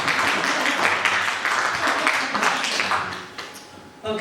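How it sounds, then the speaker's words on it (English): A room audience applauds filmmakers at a New York film festival Q&A, a dense wash of clapping that holds steady for several seconds and then fades. "Round of applause."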